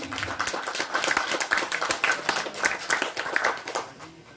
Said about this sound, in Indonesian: Dan tepuk tangan yang paling meriah sekali lagi.